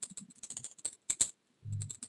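Fast clicking keystrokes on a computer keyboard, with a brief pause and then a heavier thump, close and clear with no voice over them.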